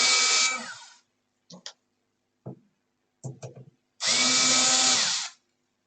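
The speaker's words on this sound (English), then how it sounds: "I'll just remove the screws." Power drill removing screws from an AvP hexa PC case, two loud close bursts of whining motor with short clicks and handling noises between them.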